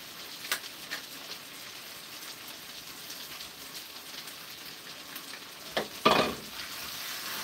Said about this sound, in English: So I hear it like it's frying.